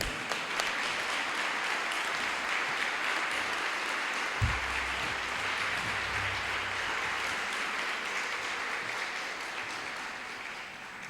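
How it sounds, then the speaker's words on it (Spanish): An audience at the opening of a Special Education Week event applauds to welcome the next speaker, a sustained, uniform roll of many hands, with a short low thump partway through and the clapping gradually tapering near the end. "que también la podemos recibir con un aplauso, ¿no?"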